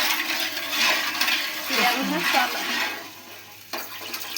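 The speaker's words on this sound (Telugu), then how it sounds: "మేమైతే జోరుగా ఉండాలని అయితే 3 గ్లాసులు పెద్ద గ్లాసుల వాటర్ అయితే పోసుకుంటున్నాం" Water splashes and pours into a pot in uneven bursts, three large glasses' worth for upma, with a metallic clink near the end.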